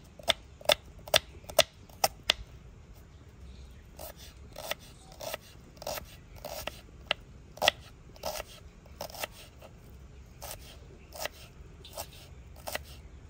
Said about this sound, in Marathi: भेळ करण्यासाठी आपण आता कांदा बारीक कापून घेणार आहोत।